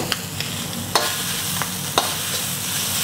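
Crab fried rice being stirred in a hot wok, with a steady oily sizzle and a few sharp scrapes and taps of the spatula on the metal. The scrapes come spaced about a second apart, and no one speaks.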